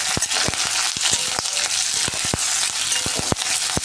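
Capsicum sautéing in hot oil for a restaurant-style paneer 65, a steady close sizzle with sharp crackling pops and occasional stirring scrapes throughout.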